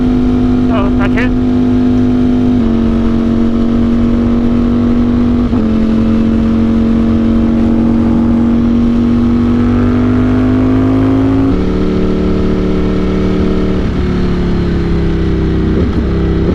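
Ducati Streetfighter V4S motorcycle fitted with a Cordona quickshifter, loud sustained engine drone rising through the gears, with quick clipped shifts breaking the pitch several times.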